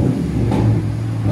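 Deep, throaty rumble of a RAM 1500 5.7L HEMI V8 truck revving through a loud aftermarket exhaust, brief and close, with a low burbling growl.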